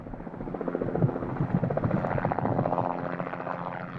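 A helicopter used for aerial spreading drones on nearby with a steady, rhythmic rotor chop and engine whine, loud and continuous with no talk.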